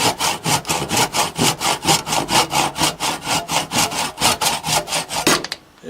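A hand saw cuts through PVC with steady, rhythmic back-and-forth strokes, loud and close, about four strokes per second, stopping abruptly near the end; no voices.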